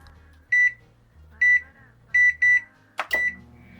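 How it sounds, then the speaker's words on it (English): A microwave oven heating milk with gelatin hums low while its beeper sounds several short loud tones in sequence, followed by a clunk of the door. "Now heat it in the microwave for 2 minutes at 600 watt."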